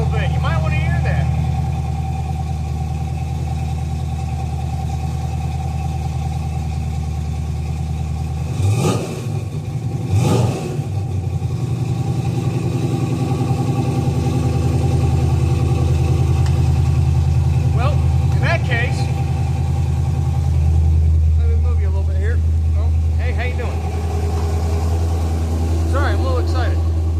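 A car engine idles and is revved a little, with a steady low rumble that swells in a couple of short rises, close and loud throughout.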